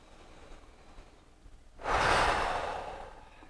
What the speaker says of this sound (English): we're just going to take 5 breaths here